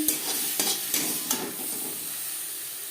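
Vegetables for a vegetarian navratan korma cooking in a pan, with a steady close sizzle and hiss and a few scraping stirs early on, no voices.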